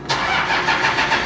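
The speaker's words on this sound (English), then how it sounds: "So get in the truck and start up the engine." From inside the cab, a truck engine cranks briefly and catches, then settles into a steady, close idle with a slight rhythmic pulse.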